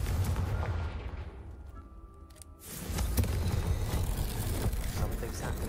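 Confringo blasting spell explosion in the video game Hogwarts Legacy, a burst of rumbling noise that drops away briefly and then surges back as a heavy, sustained blast, heard alongside a voice.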